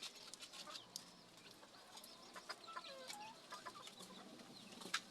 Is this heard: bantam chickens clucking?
yes